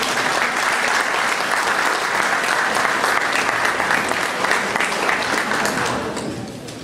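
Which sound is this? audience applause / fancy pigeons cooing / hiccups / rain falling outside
audience applause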